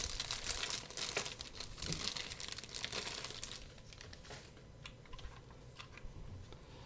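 A plastic bag crinkles around a boxed Tiger Electronic Pinball handheld LCD game, a soft, close crackling and rustling that comes in uneven bursts, busier at first and then sparser and quieter.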